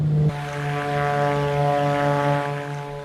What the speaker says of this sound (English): Now you hear the motor retracting the landing gear.